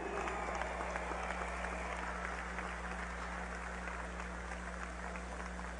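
A crowd applauds at a PSUV party gathering in Caracas, a steady, distant-sounding wash of clapping over a low electrical hum, fairly quiet throughout.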